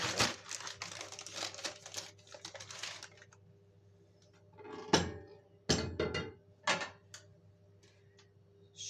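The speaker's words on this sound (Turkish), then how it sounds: "Ona yağlı kağıt seriyorum." Close crinkling and rustling of baking paper, a busy burst at first, then a quieter stretch broken by several sharp crumpling bursts.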